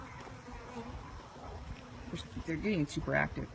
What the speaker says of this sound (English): the bees are super active on this frame.